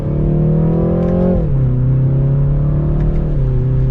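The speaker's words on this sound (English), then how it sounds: "we'll drop down to second gear here, give it a little bit of gas" A 2023 BMW 330i engine pulls hard in second gear under throttle, a loud, steady droning note that dips briefly about a third of the way through before holding firm again, heard close with no talking.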